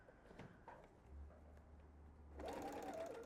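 A sewing machine stitching a seam for an invisible zipper: a soft low motor hum runs steadily for about a second and a half, then stops as brighter rustling and handling noise take over, all close and quiet.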